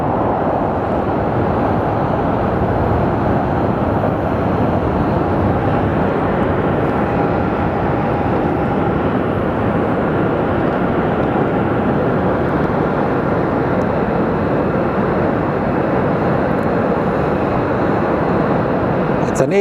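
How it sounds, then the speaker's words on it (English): Airbus A300 airliner coming in to land at Sky Harbor Airport, a loud continuous broadband engine roar holding steady throughout, with faint voices underneath. "It's an A300 coming in"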